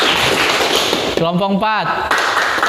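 Groups of students clap hands in loud, dense, continuous applause, briefly interrupted midway by a man calling out a group number over it.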